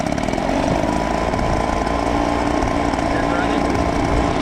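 Small backpack leaf blower engines run together with a steady, buzzy two-stroke drone, close and loud and constant throughout.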